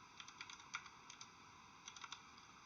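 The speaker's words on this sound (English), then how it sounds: "Now I'm going to type in the x values that are on my table." Quiet clicking of a computer keyboard as numbers are entered, light irregular keystrokes in short bursts with pauses, close and soft over a faint steady hum, no voices.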